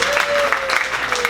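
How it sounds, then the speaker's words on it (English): A comedy club audience at an improv show claps together in a brief, dense burst of applause close by, with a voice briefly audible over it. "So round of applause for you"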